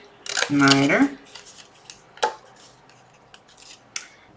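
Scissors snip through a paper box template, a sharp close cut followed by several lighter, scattered snips and paper rustles at an uneven pace.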